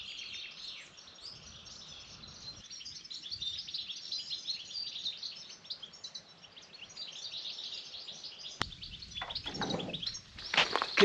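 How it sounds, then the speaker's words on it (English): Birds chirp and sing in open air beside a lake in Spain, bright overlapping calls continuing throughout, with a sharp click and some rustling near the end and no talking. "The sound of the birds, that's all we hear here."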